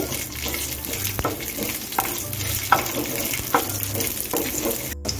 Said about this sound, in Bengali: এখানে গ্যাসটা বসে রেখেছি, কাঁচা লঙ্কাটাকে একটু ভেজে নিচ্ছি।